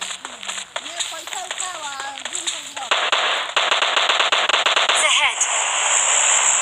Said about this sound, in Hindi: सामने से फायरिंग आती है